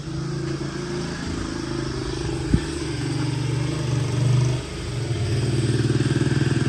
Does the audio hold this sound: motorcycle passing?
yes